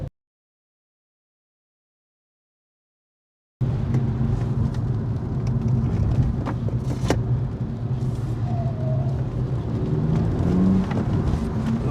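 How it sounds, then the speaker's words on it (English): Silence, then a straight-piped diesel Audi engine cuts in with a steady, throaty rumble that holds loud and close for the rest of the clip, with no talk. "straight pipe diesel sounds quite nice actually"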